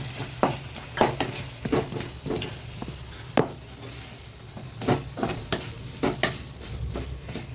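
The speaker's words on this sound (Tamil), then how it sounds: "நல்லா இந்த முள்ளங்கி கொஞ்சம் வதங்கட்டும்." Radish sautés in a pan with turmeric for egg curry, a soft steady sizzle punctuated by repeated scraping and clinking stirs of a spoon against the pan.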